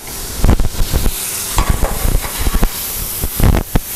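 About two tablespoons of butter melt and sizzle in a pan over high heat, a loud steady crackle broken by sharp clacks and scrapes of stirring, with no voices.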